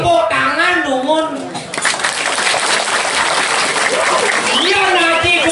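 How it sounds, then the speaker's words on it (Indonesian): Applause from an audience at a Balinese comedy show, a dense burst of clapping in the middle that rises after a voice and fades as talking resumes. "Tepuk tangan dumun."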